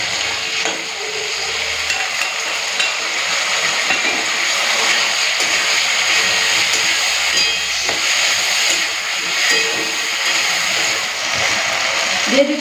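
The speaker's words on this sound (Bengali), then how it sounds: "বাটা মশলাটা দিয়ে ওই আলুর সাথেই মশলাটাকে কষে নেবো" Ground spice paste frying with lightly fried potatoes in a pan, giving a steady, continuous sizzle and hiss that stays fairly loud and even throughout, with faint scraping of stirring.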